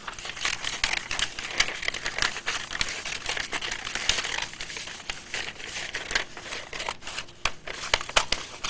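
Scissors cut through a paper strip with a steady, dense run of crisp crackling snips and rustles, close and continuous with no talk.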